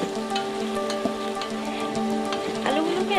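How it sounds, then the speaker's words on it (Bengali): Potatoes sautéing in a pan with spiced chicken for vegetable khichuri, a soft continuous sizzle with light crackles and a stir near the end, alongside a faint steady hum. "আলুগুলোকে আমি 5 মিনিটের মতন কষিয়ে নিব"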